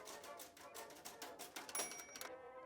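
Typing on a typewriter in a 1970s office setting, a quick steady patter of key strikes at a faint level, with a brief bell-like ding near the end as the carriage reaches its limit.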